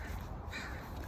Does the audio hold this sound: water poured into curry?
no